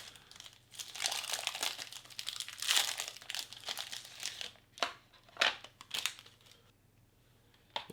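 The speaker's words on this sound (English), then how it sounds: "We'll get our salted crackers out." A plastic packet of salted crackers torn open by hand, a long run of close, loud crinkling and crackling with several sharp rips and crunches, then quieter rustles near the end, no speech.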